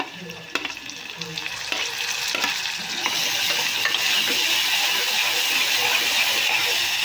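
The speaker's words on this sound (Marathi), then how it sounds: "तर इथे कांदा आपलं थोडं परतून झालं, आता आपण हे टोमॅटो घालून घेऊया।" Onions and tomatoes are stirred and sautéed in a pan for dal fry: scraping spatula strokes come first, then the sizzle swells into a loud, steady hiss close by.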